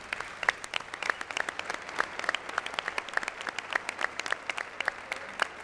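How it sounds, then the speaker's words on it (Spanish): A small audience at a book fair claps, a moderate patter of individual hand claps that is sparse but steady over several seconds, mid-distance in a room. "bravo, un aplauso"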